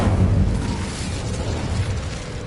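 An Incendio fire spell from a video game goes off as a loud, dense roaring burst, most forceful at the start and then sustained as a broad rumble for over two seconds.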